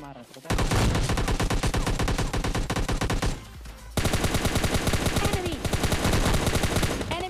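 Rapid automatic gunfire from the mobile shooter game PUBG Mobile Lite, loud and dense, with a short lull near the middle before another sustained burst of shots.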